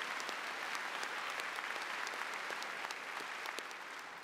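An audience at the Raytown High School 2012 graduation ceremony applauds, with dense, even clapping from many hands that runs the whole length and eases off slightly at the end.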